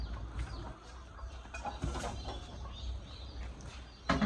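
Home-raised chickens clucking and fussing in a household yard as one is caught, with broadband scuffling and rustling throughout and a sharp louder burst near the end.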